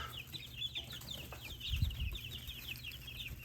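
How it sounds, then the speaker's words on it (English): Young hatchling chickens cluck and chirp steadily nearby, with soft low thumps and rustling underneath; a short louder bump stands out midway. "Hey, little chickens, what you doing?"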